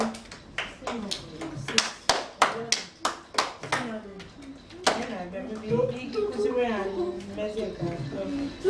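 Children in a morning class at an Igbo summer camp clap in sharp, evenly spaced bursts, about a dozen strikes in quick rhythm, then the claps fade under lively chatter and singing voices.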